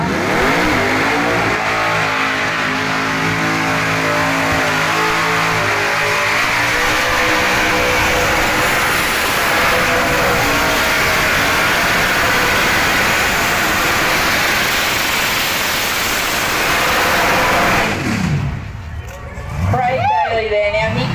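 A car doing a long burnout on the Summernats 35 burnout pad, a loud sustained engine roar with revving and tyre noise, crowd hubbub behind it and an announcer talking throughout before the noise drops off near the end.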